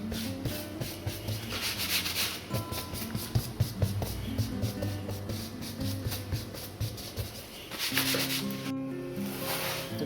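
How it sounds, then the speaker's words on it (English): Talcum powder is wiped off fake tattoo practice skin with a steady soft rubbing and brushing, in repeated close strokes. "talcum powder has been applied. So we'll get rid of our excess."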